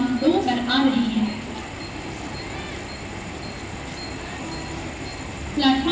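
A slow Mumbai suburban local bound for Chhatrapati Shivaji Maharaj Terminus pulls into platform 2, its steady broadband rumble filling the middle of the clip while voices are heard briefly at the start and end.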